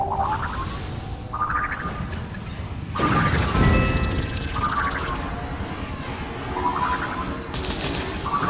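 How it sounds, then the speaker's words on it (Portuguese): Spore space-stage gunfire, with rapid laser-like shots and rising chirping tones repeating over a steady hum, plus a louder burst of blasts midway and another near the end. "Para, para de me atirar."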